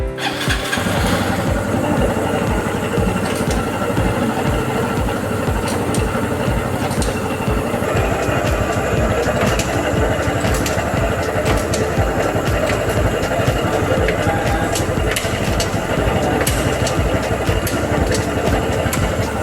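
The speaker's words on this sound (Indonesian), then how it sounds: "Kita hidupkan dulu motornya." A motorcycle engine starts and keeps running steadily at close range throughout, a continuous loud mechanical drone with no talk over it.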